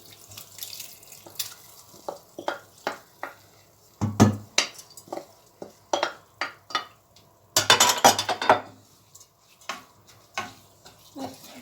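A spoon scrapes and clinks against a pot while bulgur with tomato paste is stirred for pilaf, a series of irregular, fairly close knocks and scrapes with a few louder clatters.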